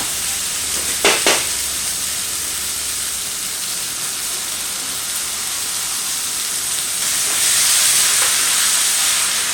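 Broth is poured into rice frying in a pan, making a continuous close sizzling hiss with a couple of brief bursts early on, then a louder, brighter hiss near the end.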